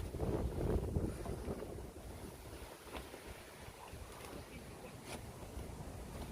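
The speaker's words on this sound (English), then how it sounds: "this wind, it's picking up big time now." Strong wind buffets the microphone at a carp fishing spot by the water, gusting loudest at first and then settling into a quieter, rough rumble, with no one speaking.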